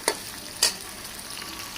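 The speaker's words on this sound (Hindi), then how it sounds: "इधर हमारे प्याज ब्राउन हो रहे हैं।" Onions brown in hot oil in a pan. A soft, steady frying hiss is broken by two brief stirring scrapes.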